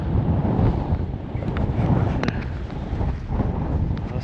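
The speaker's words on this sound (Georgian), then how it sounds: "სასწაული ქარია, აი სასწაული." Strong gusty wind batters the microphone on a lakeshore at a park fishing tournament, a loud continuous low roar with faint water lapping underneath and no speech.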